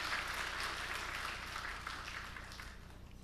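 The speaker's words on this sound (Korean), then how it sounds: "박수 한번 하겠습니다" A church congregation claps together in a sustained burst, a dense even patter of many hands, fairly quiet and slowly tapering toward the end.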